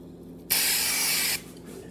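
Cooking spray shot from a can into a loaf pan: one steady, loud hiss lasting just under a second that cuts off sharply, with a quiet room before and after.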